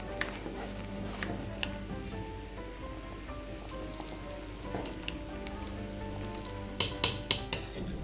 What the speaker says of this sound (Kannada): ನೋಡಿ, ಈ ಥರ ಸಾಂಬಾರು ಚೆನ್ನಾಗಿ ಕುದಿಬೇಕು